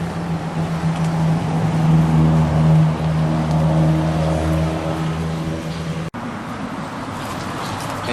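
A farm truck engine in Cameroon drones steadily up close, a loud continuous rumble that runs evenly, dips briefly near the end, then carries on, with no voices.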